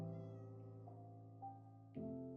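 Minecraft cat meowing in the video game: a soft, tonal mew and a couple of brief higher cries over a steady game music drone, fairly quiet throughout.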